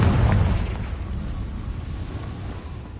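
A Confringo blast spell from a Harry Potter video game opens with a deep boom that rolls off into a low rumbling tail, with no talk.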